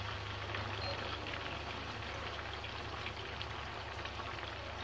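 Marinated pork patties for bún chả sizzle in a pan over medium heat, a dense, continuous crackling hiss at steady volume throughout with no pauses.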